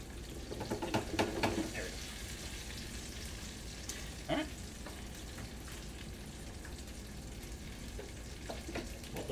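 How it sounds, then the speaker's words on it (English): Food fries in hot oil with a steady, moderately loud crackling sizzle that runs throughout, with occasional sharper pops and faint kitchen clatter. "we've been frying for a little bit"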